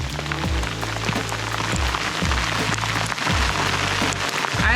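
Steady rain patters on an umbrella on Wheeler Mountain, a dense close drumming with scattered heavier drops striking the fabric throughout, with no talk.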